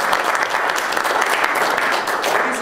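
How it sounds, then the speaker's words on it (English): An audience applauds steadily at a live comedy show, a dense, sustained round of clapping that carries evenly from start to finish with no speech over it. "A big round of applause for Mr."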